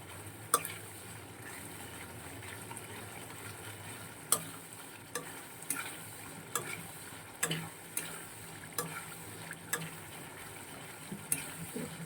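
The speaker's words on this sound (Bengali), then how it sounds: "আদা রসুনের পেস্ট দিয়ে দিয়েছি 2 চা চামচ, জিরে পেস্ট দিয়েছি 2 চা চামচ, নুন দিয়েছি পরিমাণ মতন, দিয়ে ভালো করে কষিয়ে নিচ্ছি।" Ginger garlic paste, cumin paste and salt are sautéed in a pan, a soft steady sizzle punctuated by regular sharp spatula taps and scrapes every second or so, close and quiet.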